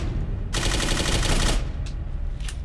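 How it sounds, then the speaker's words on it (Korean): A burst of rapid automatic gunfire in the video game Clive Barker's Jericho rattles for about a second, followed by a couple of short, sharper shots, with a low rumble underneath. "총소리 작은 거 좀 이해 좀 해주죠"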